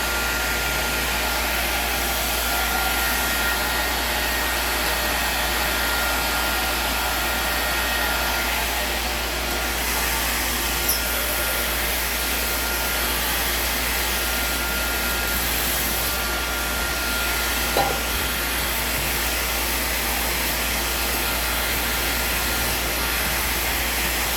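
A hair dryer blows steadily at close range, a constant whooshing hum that holds level throughout with no talking.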